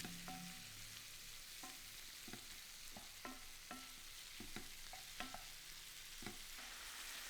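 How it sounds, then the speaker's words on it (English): Prawns frying in oil and butter in a pan, turned often: a soft, quiet sizzle punctuated by a series of light utensil taps and stirring clicks spread across the clip. "Now add those prawns to the pan with the oil and butter and fry, turning often"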